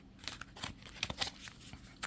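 Tarot cards shuffled by hand in a quiet room, giving a run of soft papery riffles and flicks, irregular bursts close to the microphone over about two seconds, with no talking.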